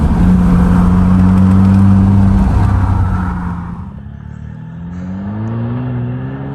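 A Jeep Wrangler JL with the 2.0 engine and a Flowmaster American Thunder exhaust drives past: a loud, close engine roar that eases off and fades as the vehicle moves away, then rises slightly again as the engine note shifts.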